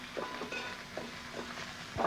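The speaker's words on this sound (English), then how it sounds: "let's get the steak in the pan" Steak searing in a frying pan, with a steady close sizzle and soft scraping and shifting noises coming and going over it, no talking.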